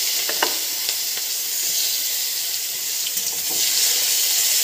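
Onion fries in oil with black cumin in a pan, giving off a steady, hissing sizzle with faint crackles throughout, close and continuous with no voices.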